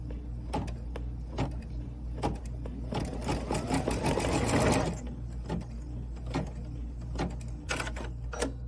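Sewing machine stitching fabric for a quilting sew-along, with a steady mechanical hum, a faster whirring run in the middle and evenly spaced ticking clicks, close and alone without speech.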